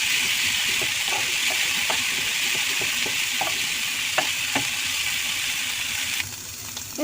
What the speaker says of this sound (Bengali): সামান্য একটু পানি দিয়ে আবার একটু কষিয়ে নেব।